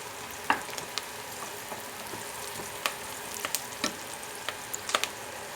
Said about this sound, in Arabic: انا عايزه بس البصل يدبل معايا، مش عايزه احمره، انا عايزاه يدبل بس